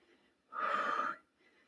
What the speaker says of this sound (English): Lots of breathing. Heart rate is definitely up.